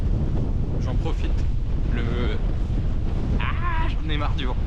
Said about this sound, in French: J'en ai marre du vent.